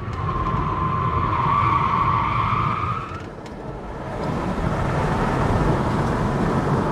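A Tesla Model car doing a donut, its tyres squealing in a loud, sustained screech that drops out briefly midway, then a rough roar of spinning rubber and engine-free motor noise resumes, close by.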